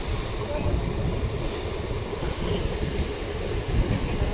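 A MEMU local train on the Bengaluru to Dharmavaram line runs with a steady rumble and rattle of carriages on the rails. A voice talks faintly beneath the continuous noise.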